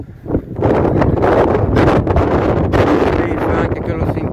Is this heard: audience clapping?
no